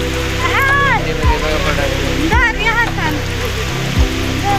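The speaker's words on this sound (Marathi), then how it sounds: "पाऊस पडायला लागलाय" Rain falls steadily outdoors beside a river in a forest, a constant close hiss of water running beneath loud, excited talking throughout.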